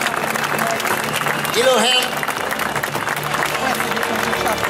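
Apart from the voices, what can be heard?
rodeo crowd applause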